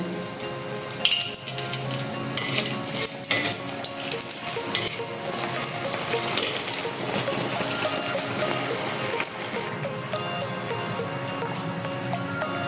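Rice-flour and wheat-flour pitha frying in hot oil, a steady close sizzle with crackling pops and occasional spatters running continuously throughout.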